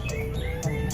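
Songbirds at a chirping contest at Gantangan Kukusan in Depok, a few bright, quick chirps and tweets over a busy outdoor background.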